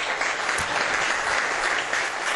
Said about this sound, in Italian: l'applauso in memoria del 21enne Mazzarese